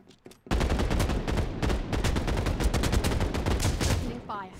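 Sustained loud gunfire from a battle royale shooter, Final Fantasy VII The First Soldier, with rapid continuous bursts of shots for several seconds after a brief quiet start.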